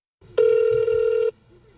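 An unanswered telephone line rings once with a single steady electronic tone lasting nearly a second, clear and close over a faint background murmur.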